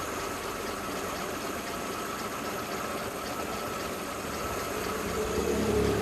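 The rebuilt 1.3-litre engine of a Suzuki Zebra Espass idles at a low RPM of around 650 with a steady, close mechanical chugging and slight knocking. It grows a little louder toward the end, and no one speaks.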